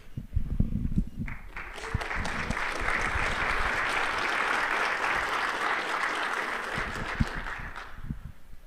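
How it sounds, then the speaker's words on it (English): A crowd claps steadily, a full, dense round of applause holding at a constant level for several seconds before tapering off. "So definitely well-deserved round of applause there."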